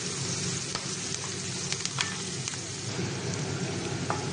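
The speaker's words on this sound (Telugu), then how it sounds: "లైట్ బ్రౌన్ కలర్ వేగినంత వరకు వేయించుకోవాలి." Sliced onions frying in a pan until light brown for a pumpkin curry, a steady crackling sizzle with faint scattered pops, moderately quiet and even throughout.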